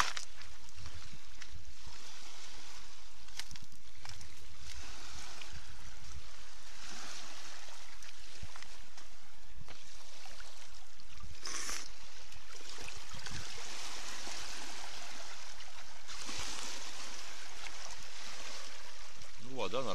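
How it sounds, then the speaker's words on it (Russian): Surf washing onto the shore of Lake Baikal in Buryatia, a steady broadband wash of waves with swelling surges, heard close and alone without voices. "Вот такой прибой еще тут шумит."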